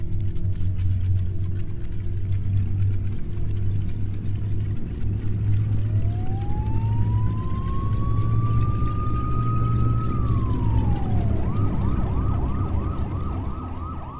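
A police siren wails, rising and holding in a long sweep before switching to rapid yelping cycles, loud and close over a steady engine rumble.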